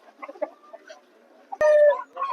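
Clucking and squawking from native country roosters at the Vijayawada rooster market, scattered quiet calls followed by a louder harsh squawk nearby.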